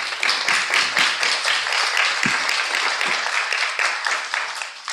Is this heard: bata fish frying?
no